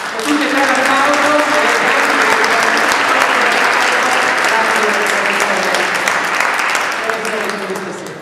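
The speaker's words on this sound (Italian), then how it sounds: "Io anzitutto a tutti e tre un applauso." Loud, full applause from the audience at a Christmas concert by a town band in Portacomaro, a thick continuous clatter of many hands lasting about eight seconds with a faint murmur of voices beneath it that tapers slightly at the close.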